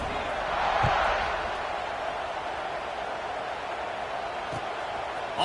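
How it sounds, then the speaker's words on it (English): Football stadium crowd buzzing after a touchdown late in the game: a broad, steady roar of many distant voices that swells slightly early, then holds as a dense wash, with a couple of faint thumps. "this crowd is buzzing after that last score"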